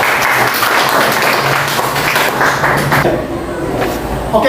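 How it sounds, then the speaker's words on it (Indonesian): Classroom audience clapping for a student presentation group, a loud burst of many hands applauding that fades out toward the end, with a voice briefly audible underneath. "Sebelumnya kita berikan tepuk tangan dulu untuk kelompok."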